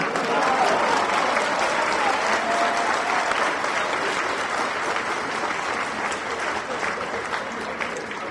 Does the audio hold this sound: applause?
yes